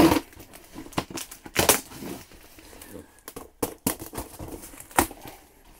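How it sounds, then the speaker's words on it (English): Close crinkling and rustling of plastic packaging with sharp snipping cuts from scissors, irregular bursts and brief pauses between them. "Now be careful, kids. These are sharp scissors."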